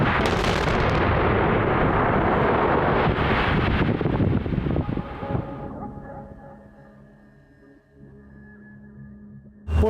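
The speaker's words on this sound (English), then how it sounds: "The open pit is ready for the blast." A heavy blast detonates in an open-pit gold mine, a long loud roaring rumble with wind buffeting that slowly fades into a quieter tail of distant rolling echoes, with no voices.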